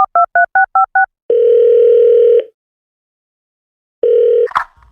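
Six quick telephone keypad tones beep in a steady rhythm, then a loud continuous dial tone holds for about a second, breaks off into silence, and resumes briefly before a soft click ends it.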